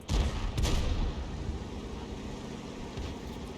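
A tank cannon fires in World of Tanks, an AMX 13 105 in battle: a heavy, near boom opens, followed by a second blast and a long rumbling decay under engine and battlefield noise.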